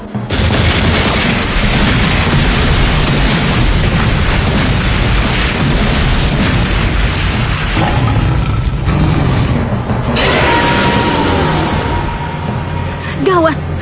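Chimera missiles fire and explode in a long, loud barrage of booms and bursts layered over a continuous roar, with some brief crackling blasts near the end of the battle scene from Ultraman Cosmos.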